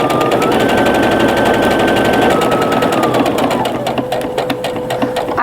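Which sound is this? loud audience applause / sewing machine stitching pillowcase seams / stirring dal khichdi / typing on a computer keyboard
sewing machine stitching pillowcase seams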